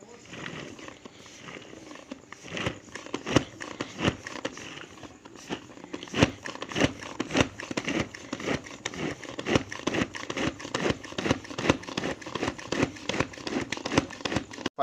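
Hand-operated chopper crushing onion, garlic and tomato, giving steady repeated crunching, cracking strokes that come faster and more regularly after the first few seconds, close and fairly loud.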